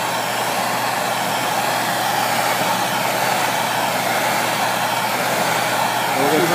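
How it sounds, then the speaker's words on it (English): A propane torch heats a bare, uncoated piece of aluminum, producing a steady, close, broadband roaring hiss that holds even and unbroken throughout. "So I'm going to take a propane torch and we're going to heat it up."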